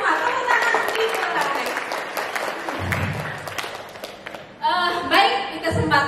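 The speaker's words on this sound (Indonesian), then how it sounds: "Tepuk tangan dimulai." An audience at a parenting seminar on raising Generation Alpha claps hands in a brisk burst for a few seconds, then a speaker starts talking while some clapping trails off.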